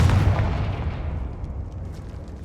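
The Confringo spell blast in Hogwarts Legacy bursts with a loud, heavy boom at the start, then a rumbling tail fades over two seconds.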